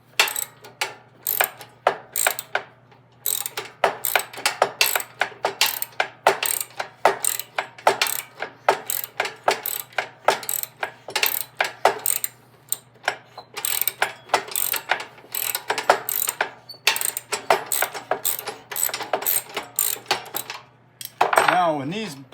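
Self-locking nuts being worked loose on the drive train of a 33-inch Snapper mower: a long run of quick, repeated metallic ratchet clicks in bursts, close and fairly loud, with short pauses between.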